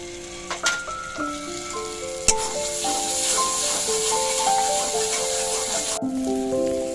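Ground cumin paste, coriander paste and dried red chilli powder sizzling in a pan of hot oil, a loud close frying hiss with sharp spatters at the start, under some faint musical tones.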